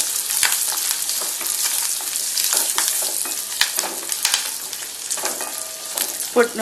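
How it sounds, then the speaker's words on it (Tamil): Ginger, green chili and garlic sautéing in a pan for a potato kurma gravy, a steady close sizzle with scattered crackles and stirring clicks throughout, no voices. "இஞ்சி பச்சை மிளகா பூண்டு இது எல்லாத்தையும் நம்ம வதக்கணும்"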